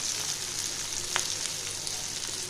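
Sliced onion and eggplant fry together in hot oil with salt, giving a soft, steady sizzle and crackle close by, faint and continuous with no voices.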